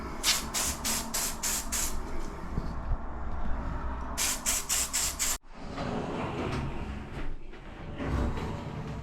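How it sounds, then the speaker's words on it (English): A can of WD-40-type maintenance spray is aimed at drawer wheels and a drawer runner, giving short hissing bursts in quick rhythmic clusters, with a pause and a longer stretch of softer hiss and handling noise nearby. "maintenance spray, which is basically WD-40, on these wheels and in this runner, just to help it stay a bit, help it glide a bit more smoothly"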